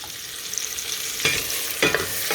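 Chopped onion frying with bacon in a pan over medium-high heat gives a steady sizzle, with two louder scraping clatters from stirring midway through and near the end.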